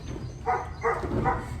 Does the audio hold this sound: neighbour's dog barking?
yes